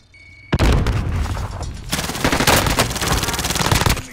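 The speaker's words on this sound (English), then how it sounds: "Got a submachine gun here" Rapid, loud submachine gun bursts in a first-person shooter video game, a sharp onset followed by sustained automatic fire with brief pauses, close and dominant.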